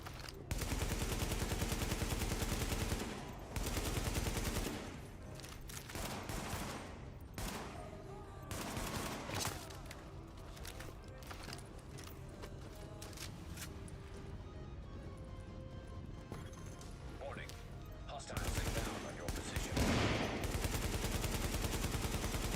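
AK rifle gunfire in The Division, dense bursts of automatic shots and rapid fusillades, loud and close, filling most of the stretch with brief lulls between volleys.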